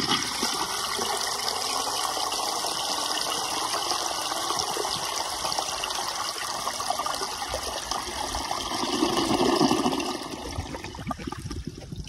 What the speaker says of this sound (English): I want to flush it and see if it's pretty much almost partially clogged or not